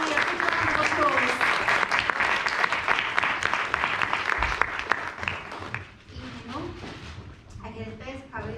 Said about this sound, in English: Manny, a big round of applause.